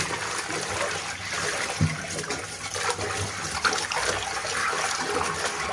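Running water splashes and trickles steadily over a cast iron kadai during washing, a continuous close rush with a few brief knocks of metal; no one speaks.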